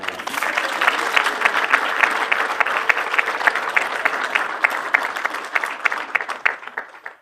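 Sustained applause from a seated audience at a colloquium in Kabuga, many hands clapping in a thick, steady wash that stays loud throughout before tapering off abruptly at the end.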